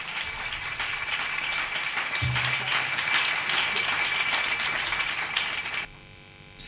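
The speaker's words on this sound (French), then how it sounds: "Acclame pour Jésus-Christ. Clap for Jesus." A church congregation at an evening revival service applauds together, a dense, steady wash of clapping that runs for several seconds before dropping away abruptly near the end.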